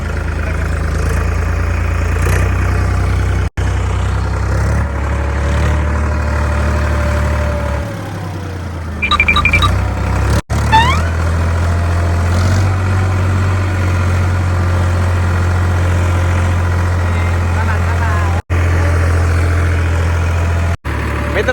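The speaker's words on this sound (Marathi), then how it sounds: "हे ट्रॅक्टर आपण आता चालवतं ट्राय करतो" A tractor engine idles and runs steadily near a village river crossing, a loud, close low rumble with a brief shift in tone midway, and no talking over it.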